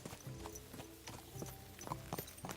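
Horse hooves clip-clop in the video game Kingdom Come: Deliverance II, a quick rhythmic series of close, fairly soft hoofbeats.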